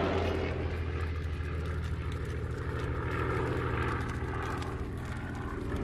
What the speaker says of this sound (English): Richthofen and his remaining 123 working bomber planes launch a series of raids on Grozny